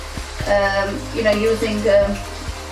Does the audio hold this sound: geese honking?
no